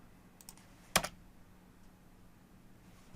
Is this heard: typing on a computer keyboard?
yes